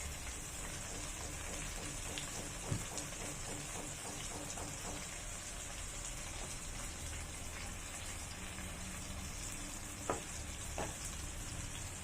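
Sardine gravy with ginger garlic paste sizzles steadily in a pan, a dense even crackle with a few sharper pops and scrapes, close and alone without talk.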